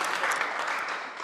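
Steady applause from a crowd at a political zonal meeting, a dense wash of clapping holding even from start to finish with no voices on top.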